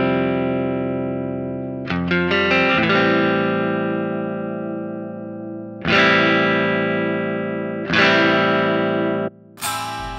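Sustained distorted electric guitar chords ring out one after another, each struck loudly and left to decay, with a saturated, buzzing amp tone from the Blue Cat Axiom amp plugin.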